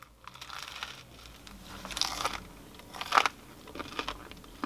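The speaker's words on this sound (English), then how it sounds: "Well, that was crunchy, a bit too salty." Crunchy bites into a fried chicken strip burger from a London chicken shop, several close crisp crunches and crinkles in irregular bursts, loudest near the middle, with no talk.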